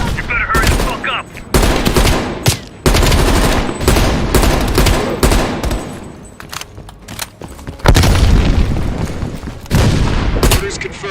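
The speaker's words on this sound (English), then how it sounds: "Heavy MG on the ridge." Heavy machine gun fire in Call of Duty: Black Ops Cold War combat, loud rattling bursts that start and stop abruptly over roughly ten seconds, with some speech mixed in.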